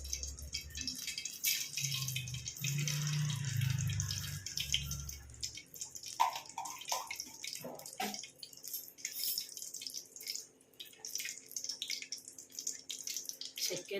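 Half a teaspoon of mustard seeds hitting hot oil for masala upma: a low hiss at first, then a scatter of sharp, irregular pops and crackles that thin out, fairly quiet and close.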